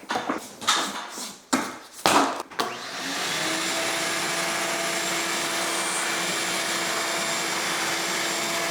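A vacuum cleaner sucks dust off a closet ceiling and the tops of 10-foot walls, opening with bumping and rubbing handling noises before settling into a loud, steady, continuous whine close by.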